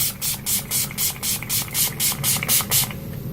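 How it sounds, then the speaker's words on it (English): Urban Decay All Nighter setting spray misted in about ten quick, even pumps, each a short bright hiss with brief gaps, close and alone. "I'm coming at you with the Urban Decay All Nighter Setting Spray"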